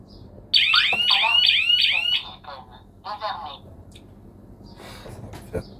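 Shrill electronic siren of a Tuya home security alarm sweeps loudly for under two seconds before stopping, followed by someone speaking and small clicks and handling noises.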